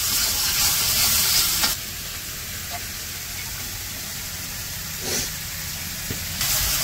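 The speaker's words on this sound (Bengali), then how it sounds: "আদা রসুন বাটা, তারপরে লবণ দিয়া মশলাটা কষিয়ে নিব" Ginger-garlic paste with salt frying in a pan for a Bengali village dish, a steady close sizzle with louder hissing bursts at the start and end and a few faint stirring clinks.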